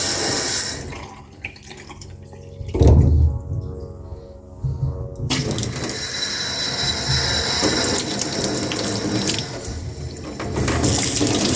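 A kitchen faucet runs steadily, a broad rushing hiss of water that starts after a brief clunk and continues close and loud.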